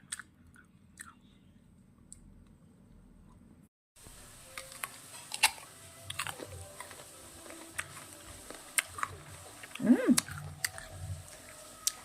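Someone bites into juicy temperate-climate fruit and chews it close up, with wet crunches and smacking in irregular bursts after a quiet opening, no talk.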